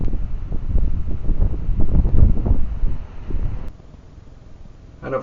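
Gusty wind buffets the built-in microphone of an iSpyPen Pro X spy camera pen outdoors on a rainy, windy day, a loud low rumble for about three seconds that then drops to a quieter hiss.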